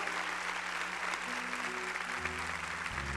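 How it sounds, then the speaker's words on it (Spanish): A church congregation applauds loudly and steadily for the whole stretch, dense crowd clapping with a low sustained tone from a keyboard or organ entering underneath toward the end. "den un fuerte aplauso al Señor"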